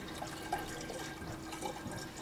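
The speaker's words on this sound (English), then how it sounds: "Dump this right into your carboy, your fermenter, whatever you're going to use, bucket." Honey wine mixture for mead poured into a carboy over a sink, a soft continuous splashing and gurgling of liquid with small drips, quiet and steady with no talking.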